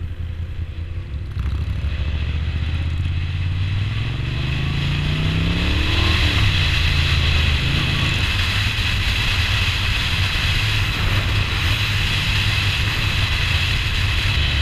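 Moto Guzzi V9 Roamer with an Agostini exhaust riding past at a Mods and Rockers event, the engine rumbling and revving up as it nears, then holding a steady loud drone with wind and road noise, no voices.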